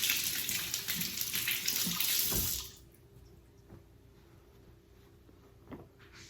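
A kitchen tap runs steadily while hands are washed under it, a close, bright rush of water that stops after about two and a half seconds, leaving a quiet room with a few faint knocks.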